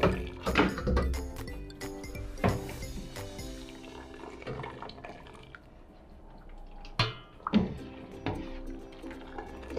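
Cooked chicken biryani rice being drained, with water dripping and trickling in irregular wet splashes and soft thunks, close and fairly quiet, no talking.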